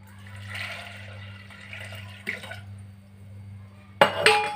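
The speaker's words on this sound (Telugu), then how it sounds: "ఇప్పుడు ఇందులో కొంచెం వాటర్ వేసుకోవాలి." Water poured into a cooking pot while making veg dalcha, a steady trickling pour with a low hum underneath, then a brief clatter near the end.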